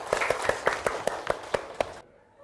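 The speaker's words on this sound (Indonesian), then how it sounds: "Tepuk tangan untuk kita semuanya" A classroom group claps in a steady, rhythmic beat of about ten sharp, close claps, then stops abruptly into quiet.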